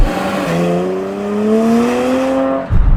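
An Audi SQ5 engine pulls hard on the road, a loud rising drone that climbs steadily in pitch for nearly three seconds before a brief dip, heard from close inside with no talk.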